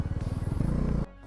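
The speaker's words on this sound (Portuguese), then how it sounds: "ela afogou pois eu exigi do motor em uma rotação abaixo do que ele podia entregar" A Zontes motorcycle engine lugging in too high a gear at low RPM in town, a rapid chugging pulse that stumbles and then stalls abruptly into near silence, close and loud.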